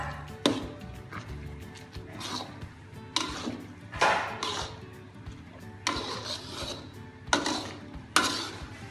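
Mie tektek noodles with tomato sauce are stirred in a pan, repeated scraping and rubbing strokes coming in irregular bursts, close and fairly quiet, with no talking.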